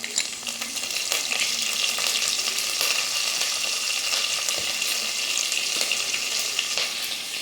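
Ginger and curry leaves crackle and sizzle loudly in hot oil, a dense continuous frying hiss with scattered pops and light stirring scrapes, heard up close without speech.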